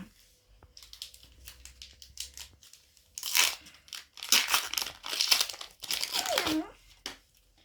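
A FIFA 365 football card pack torn open and crinkled by hand, bursts of loud crackling foil wrapper in several waves after a quieter stretch of soft rustling, with someone speaking faintly in between.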